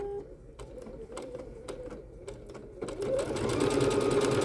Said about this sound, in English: continue to stitch out all of the decorative stitches on the B-77 Bernette